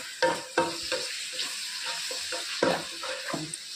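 Chopped tomatoes sizzle in a hot pan on the stove while a spoon scrapes and stirs them in several irregular strokes, a gentle close frying hiss underneath.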